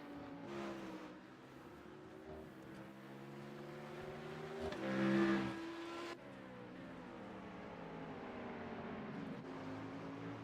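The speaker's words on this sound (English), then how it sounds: "it's interesting to hear the different sounds of these engines" Race car engines, including a Mustang and an Audi, accelerate off a corner at Okayama circuit, with droning tones that rise to a loud pass midway and then fade into a steadier, more distant hum.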